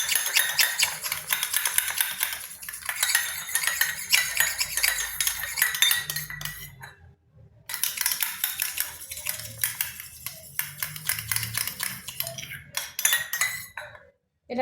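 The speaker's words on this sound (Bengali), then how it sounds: "জল আর তেল ভালোভাবে মিশিয়ে নিচ্ছি" A spoon clinks and scrapes against a bowl while water and oil are stirred together, a rapid run of metallic taps that pauses briefly midway and then resumes.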